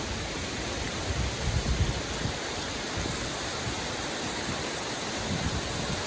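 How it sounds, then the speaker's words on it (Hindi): Heavy rain pours outside during a typhoon in China, a dense, continuous hiss with a faint low rumble underneath and no wind gusts standing out. "अभी तो फिलहाल जो है बाहर ना बहुत तेज बारिश हो रही है"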